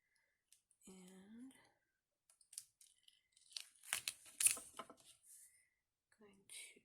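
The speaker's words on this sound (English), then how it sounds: "I'm going to take my tape again" Tape is pulled and torn in short bursts while a card is made, quiet crinkly tearing and clicking close to the mic, with brief soft speech at the start.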